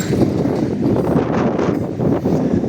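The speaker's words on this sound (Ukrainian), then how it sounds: "Вітер, але нічого не поробити." Steady autumn wind in Truskavets, Ukraine, buffets the microphone with a constant low roar and rumble, no voices, running unbroken throughout.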